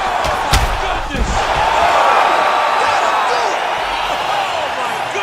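An arena crowd roars after a knockout in an MMA bout, Abdul Nurmagomedov vs Anthony Vieira, a dense sustained cheer with a sharp thud near the start, loud and enveloping, with voices shouting over it.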